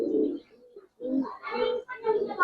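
Giribaz highflyer pigeon, a female, cooing close by in soft throaty bursts, a low coo followed by a few rising, warbling calls.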